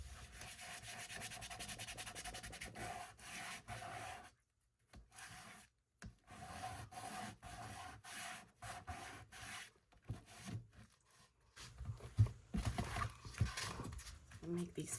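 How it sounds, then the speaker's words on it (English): Sandpaper on a sanding block rubbing a cardboard box, quiet scratchy strokes in short bursts separated by pauses, close and faint. "I'm just gonna take a little bit of sandpaper and kind of get some of this off"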